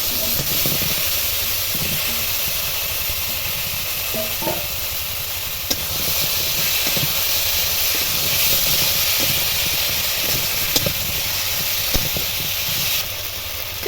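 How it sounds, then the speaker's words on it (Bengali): Raw cut potatoes tossed into hot spiced masala for a pea-lentil dhokar dalna, giving a steady loud sizzle and hiss with occasional stirring scrapes and clinks throughout. "এবার দিয়ে দেবো কেটে রাখা আলু। আমি এখানে কাঁচা আলু দিচ্ছি"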